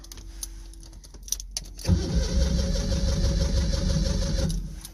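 Old engine with choke applied cranking, then catching and running roughly for a few seconds, a loud close rumbling burst after faint clicks before it dies away.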